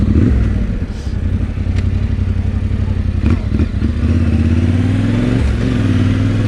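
A Yamaha Tenere 700 adventure motorcycle engine idles and runs steadily up close, a loud rumbling drone with some mechanical clatter and slight shifts in pitch.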